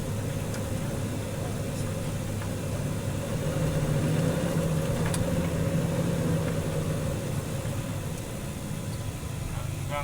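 A vehicle engine idles steadily in a long traffic jam on a Philippine road, a continuous low rumble with faint background noise, heard from inside the vehicle with no talk.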